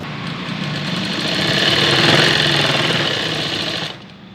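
A sewing machine runs steadily, stitching the folded half-inch waistband hem of a baby's pant in one continuous loud whirring pass that stops near the end.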